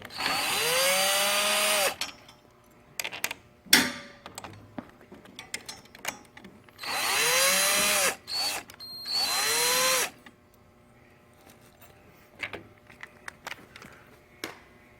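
A power drill removing screws whirs in several bursts, spinning up and down with rising and falling pitch, separated by clicks, clunks and quiet pauses.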